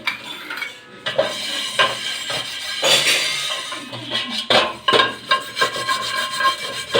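Steady scrubbing and rubbing on a dosa pan, with scraping strokes and metallic clatter as the pan is washed, repeated rhythmic passes up close with no talking.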